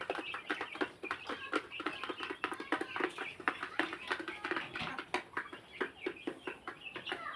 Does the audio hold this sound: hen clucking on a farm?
yes